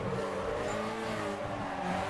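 Car engine in the racing game Need For Speed Carbon droning at high revs, steady and loud, with harmonic engine tones and a hint of tire noise, no talk.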